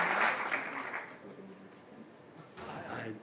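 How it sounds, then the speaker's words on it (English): Audience applause following a thank-you speech, clapping strongest at the start and fading, then a brief fresh swell near the end, with some voices mixed in. "maybe stand up one more time for a round of applause"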